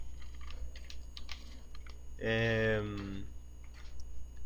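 Fingers type on a computer keyboard during an Excel 2013 spreadsheet lesson, a close run of light clicks broken partway through by a brief humming tone, with a voice heard faintly in the background.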